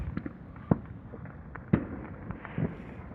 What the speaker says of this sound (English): Fireworks are starting to go off.